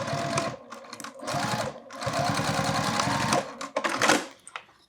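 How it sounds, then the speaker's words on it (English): A sewing machine stitches across a folded wristlet strap in loud, close runs of rapid mechanical whirring. A brief pause breaks the stitching before it resumes, and it ends with a few short bursts. "we're going to sew across here"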